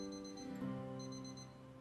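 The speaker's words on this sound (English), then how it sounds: "We were both startled by the sudden beeping of her wristwatch." A wristwatch beeps suddenly in a quiet indoor setting, giving two short bursts of thin, high electronic tones separated by a brief gap over a steady low hum.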